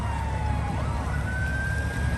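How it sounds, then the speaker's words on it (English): A fire truck siren on the interstate, heading to a car accident scene, sweeping up and down at moderate distance over a steady rumble of traffic and engine noise. "The fire truck."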